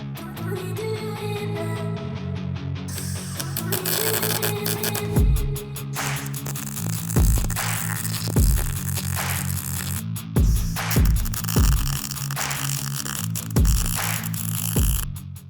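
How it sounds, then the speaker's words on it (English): Welding metal parts for a 273 to 360 Magnum engine swap: a steady electric hum and crackling buzz, close and fairly loud, broken by a series of repeated thumping bursts toward the end. "Now that we've got welds on both sides, we'll let that cool for a few"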